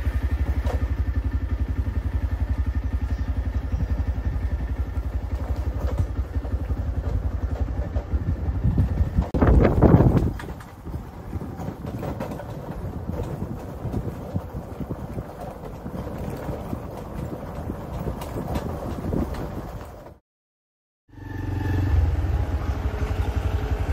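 A motorcycle rides along a rough forest track, its engine rumbling steadily and close, with rattling and clattering bursts over the uneven ground and a brief dropout near the end.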